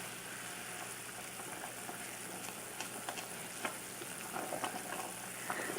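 Shrimp bisque simmers in a pot as Old Bay and Montreal steak seasoning are stirred in, giving a steady close sizzle and bubbling with a few soft scrapes and clicks of the spoon.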